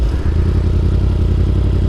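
A Yamaha R1 motorcycle engine under way, a loud, dense, steady low drone with rapid firing pulses and wind rush throughout, no voices.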